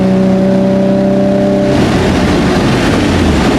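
A Nissan 350Z with Megan test pipes and a Jones resonator blares loudly and close, a steady droning tone giving way to a rough, surging roar as the engine is pushed harder.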